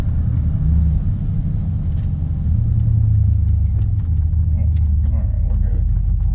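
Turbocharged farm truck at a drag strip, its engine rumbling low and steady throughout the burnout, with a brief rise in revs partway and people talking briefly over the noise.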